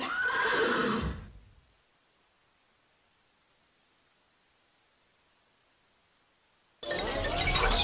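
A horse whinnies loudly, breaks off into near silence for several seconds, then another neigh starts abruptly.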